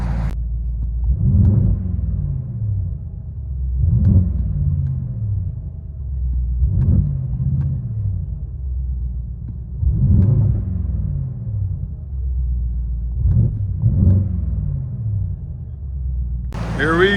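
Inside the cabin of a 2025 Mercedes GLE 63 S with a 4.0-litre bi-turbo V8 and straight pipes, a low, steady exhaust rumble swells in about six repeated throttle blips, muffled and droning.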